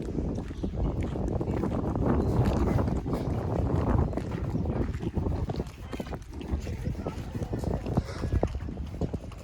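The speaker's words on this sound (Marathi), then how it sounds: "अजून पण वादळ वारा चालूच आहे. तुम्ही बघता हवेचा आवाज किती आहे." Strong storm wind sweeps over a rural village and its farm fields, a gusty roar buffeting close and loud throughout while a person talks over it.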